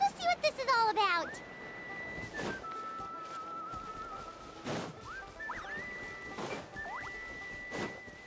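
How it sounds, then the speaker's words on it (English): Whistling in Genshin Impact: several sustained whistled tones with rising slides, repeating through the scene over game sounds and a few sharp impacts, moderately loud. "You can hear like whistling."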